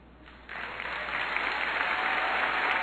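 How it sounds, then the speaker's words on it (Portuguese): Church congregation breaks into applause during a Catholic sermon, the clapping swelling quickly from near silence into a steady, dense wash that keeps building. "Isso você devia aplaudir."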